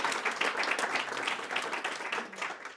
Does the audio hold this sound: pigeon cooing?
no